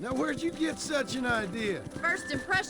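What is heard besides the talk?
No everyday noises stand out.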